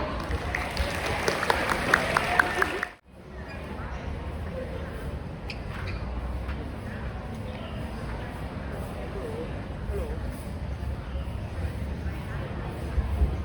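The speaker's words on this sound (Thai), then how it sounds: "ขอเสียงปรบมือให้น้องเป เล่ค่ะ" At a student TED-style talk, an audience gives a burst of applause that cuts off sharply after about three seconds, followed by quieter room noise and low murmuring.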